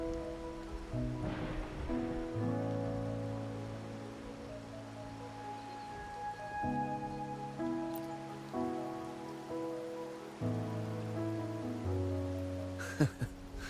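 Soft video-game rain patters steadily in the background, mostly masked by gentle melodic music for the whole stretch, with no voices.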